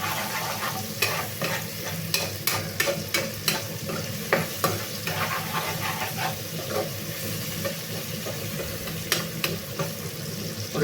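An avalakki (flattened rice) dish cooks in an oiled pan, giving a low, steady sizzle and bubbling with repeated sharp stirring clicks and scrapes at uneven intervals, quiet and close.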